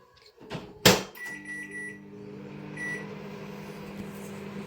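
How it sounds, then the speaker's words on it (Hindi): A kitchen microwave oven heating a cup of milk starts with a sharp click, then settles into a steady low electric hum with a faint fan whir, running evenly and quietly to the end. "मैं मारूंगी इसको 2 मिनट माइक्रोवेव"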